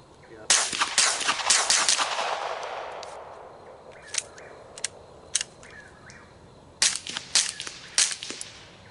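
Suppressed gunshots from a SilencerCo Osprey pistol suppressor shot wet: a rapid string of muffled cracks, a pause with a few single shots, then another quick volley, fairly close and with no talk.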